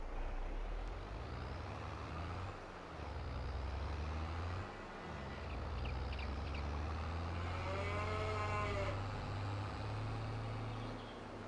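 Cows moo in the Farming Simulator 22 video game: a long, low moo rises near the end over a steady engine-like rumble of farm machinery, with fainter lowing earlier, no speech.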